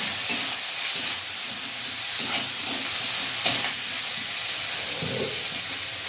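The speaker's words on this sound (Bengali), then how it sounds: "লঙ্কার গুঁড়ো দিয়ে মশলাটা কষে ভালো করে মশলাটা কষে নেব।" Masala with turmeric and chili powder frying in oil in a pan, a steady close sizzle and hiss with faint stirring scrapes throughout, no voices.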